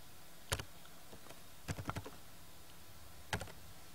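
Someone types a router admin login on a computer keyboard, producing short bursts of crisp key clicks separated by pauses, with no speech.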